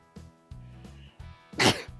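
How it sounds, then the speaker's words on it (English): One sharp, sudden sneeze bursts out close by after a few quiet breaths and small movements, with no talking around it. "Sorry, I sneezed."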